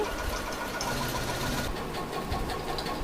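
Sewing machine stitching a blouse seam, a steady close mechanical whirr with rapid rhythmic needle clatter running throughout, with no voices.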